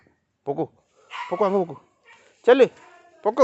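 A black dog whimpers and yips in short bursts at close range, alternating with a person speaking to it.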